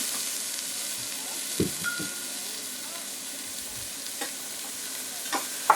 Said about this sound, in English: We're going to add our cauliflower.